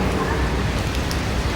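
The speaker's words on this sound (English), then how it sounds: "Violent rainstorms batter the country for months on end, dumping 57 inches of water every year." Heavy, violent rain pours down in a dense, steady hiss for under two seconds, loud and continuous with no pauses.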